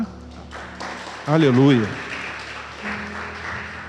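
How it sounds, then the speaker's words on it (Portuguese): A church congregation applauds together while standing, a steady wash of clapping running throughout with a voice calling out over it at the middle. "Vamos ficar de pé. Vamos aplaudir o Senhor por essa palavra."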